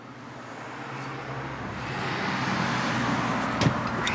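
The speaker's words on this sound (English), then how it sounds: "Let that car go by. It is making some noise." A car passes on a nearby road, a broad steady traffic rumble that swells gradually as the vehicle draws closer, with a brief sharp knock near the end.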